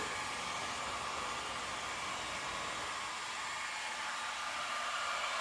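A heat gun blows steadily close by while post-heating opaque white-out window film during installation, a continuous even hiss of hot air with no talk.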